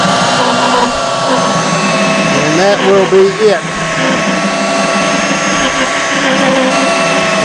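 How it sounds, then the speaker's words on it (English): An orbital sander with 120-grit paper hums steadily and fairly loud across a painted vanity cabinet, its continuous whine running throughout while someone briefly speaks over it. "and give it a final sanding at 120."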